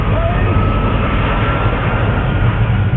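A fighter jet engine mounted on the Monstermax vehicle roars at full power, a loud, steady, dense rush filling the whole clip without break.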